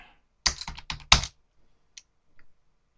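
A password is typed on a computer keyboard in a quick burst of close key clicks, followed by a pause and one or two lighter taps.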